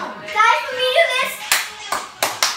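Children's voices chatter and call out, then a group claps hands in rhythm, a few sharp loud claps spaced out in sequence at the end.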